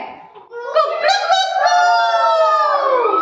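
A human voice imitates a rooster's crow, one long rising and falling call held for a few seconds, loud and close, with no other sound.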